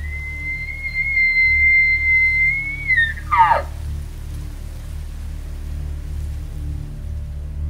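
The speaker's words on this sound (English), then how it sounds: "There's a lot of elk bugling." A single bull elk bugle from a distance: a long, high whistling tone that slides up, then drops into grunting squeals, over a steady low background rumble.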